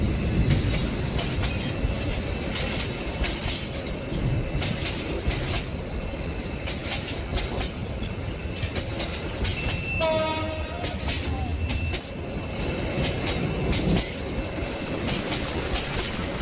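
A train rolls along the rails in a cartoon ghost story, with a constant rumbling clatter of wheels and a brief horn blast partway through, loud and close.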